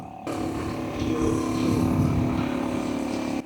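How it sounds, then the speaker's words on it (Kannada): A fishing boat motor at Vellayil fishing harbour starts abruptly and drones on steadily, a close, even engine hum that stays loud throughout with no talking. "ಸೊ ಇವರು ಬೋಟ್ ಓಡಿಸ್ಕೊಂಡು ಹೋಗ್ತಿದ್ದಾರೆ ನೋಡಿ"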